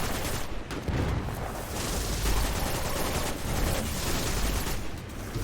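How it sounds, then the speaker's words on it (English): Rapid gunfire from a Destiny 2 weapon pours into a teleporting enemy, a dense, continuous stream of shots mixed with game effects and explosions, steady and loud throughout. "I put a lot of shots into this guy"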